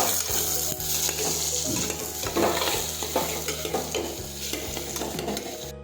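Ridge gourd curry being stirred in a pan with turmeric and sugar, a utensil scraping and clinking steadily against the metal over a soft sizzle, close and continuous with no talk.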